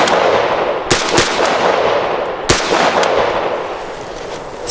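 Loud gunshots from a large-format handgun fired outdoors, two or three sharp cracks spaced about a second apart, each trailing into echo over a noisy background.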